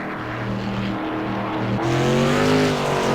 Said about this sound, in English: And a victory burnout, rightfully so there for that Rockstar Energy Cook Motorsports 96.